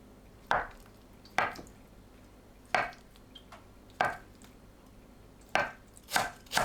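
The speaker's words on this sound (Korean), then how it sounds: "두부를 한 입 크기로 썰어주세요." Kitchen knife chopping tofu into bite-size pieces on a cutting board: irregular, distinct thuds about a second apart, ending in a quicker double knock, close and clear with no talking.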